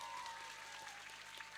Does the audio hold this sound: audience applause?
yes